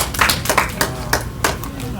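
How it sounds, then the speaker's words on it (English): Audience clapping at a teen open mic poetry event, a handful of separate claps spaced irregularly over a steady murmur of room noise, close and moderately loud. "Clap up for that, you know?"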